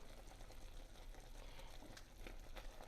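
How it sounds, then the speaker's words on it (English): A pot of fudge mixture boils fast on the stove, a soft, steady bubbling hiss that runs continuously without pause and with no one speaking. "And y'all can hear this boiling."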